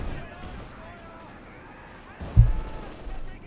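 Tank gunfire in the World War II strategy game Company of Heroes 2, a 3-inch gun shot followed by ammunition detonating, one sharp loud blast after a quieter stretch, trailing into rumbling aftermath.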